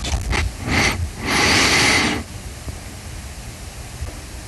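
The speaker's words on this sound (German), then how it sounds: "Das war's Atmen, aber ihr hört, es ist ein komplett anderes Rauschen" Two or three close, loud breaths of broadband rushing noise, the longest lasting about a second, followed by quiet room hiss.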